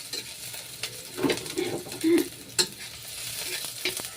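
Onions sauté and sizzle in a hot pan in a home kitchen, with a utensil stirring and scraping in bursts and a sharp clink of metal partway through. Nobody speaks.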